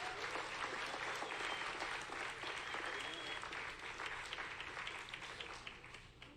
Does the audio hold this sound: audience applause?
yes